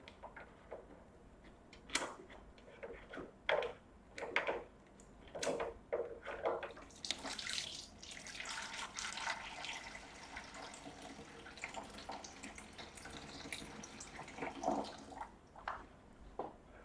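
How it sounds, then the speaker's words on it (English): Water runs from the tap of a 48-liter trolley cooler box, splashing and gurgling in irregular bursts with sharp drips and knocks, fairly close and moderately quiet, with no voices. "So the output of water is very large."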